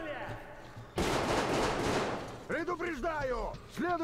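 Gunfire in the video game Metro: Exodus erupts as one loud burst after a quiet start, followed by a voice speaking.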